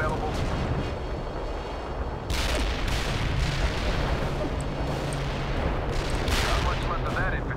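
Booming artillery fire and explosions roll through a battle in the video game World in Conflict, with repeated heavy blasts over a dense rumbling background and a voice speaking in the game.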